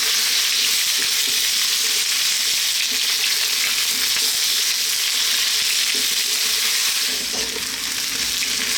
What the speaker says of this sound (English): stand on a high heat, we're going to get some onions in